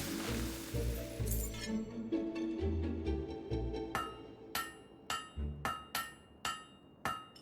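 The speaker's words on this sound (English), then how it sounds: "You know how to use a hammer." A blade is struck with a hammer at a forge in a video game: sharp metallic clanks ring out, first in a quick run, then a slower series of about ten distinct, evenly spaced hits, with no speech.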